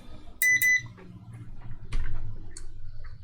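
A multimeter gives two short, piercing continuity beeps in quick succession while radio wiring is checked, followed by soft clicks and handling noise nearby.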